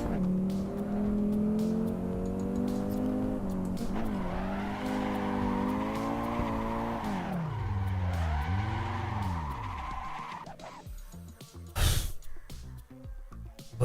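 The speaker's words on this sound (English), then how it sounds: "This is what iRacers think drifting is." Car drifting in the Assetto Corsa racing game on street tyres, engine droning with rising and falling pitch as the tyres squeal and slide, loud and continuous, then a final abrupt crash-like burst near the end.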